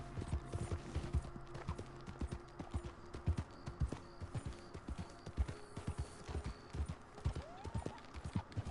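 Horse hooves in Red Dead Redemption 2 clatter in a fast, rhythmic clip-clop as the horse gallops, steady and moderately close throughout, with occasional faint tonal game sounds behind.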